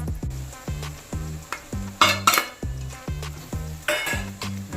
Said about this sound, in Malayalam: നല്ലതായിട്ടൊന്ന് വഴറ്റിയിട്ട് ഇതിൻ്റെ പച്ചമണം പോയിട്ട് നമുക്ക് തക്കാളി മിക്സിയിലടിച്ച് കൂട്ടാം